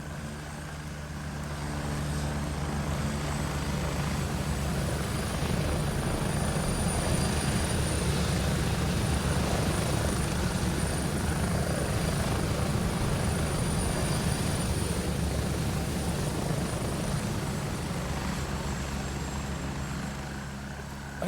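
A helicopter in the video game Battlefield 6 drones steadily and loudly for the whole stretch, its dense rotor and engine roar holding nearly constant with no voices over it.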